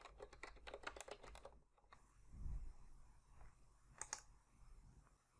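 Password being typed on a computer keyboard at a Linux login: a quick run of close, light key clicks for about two seconds, then a low thump and a couple of sharper clicks later, with no talking.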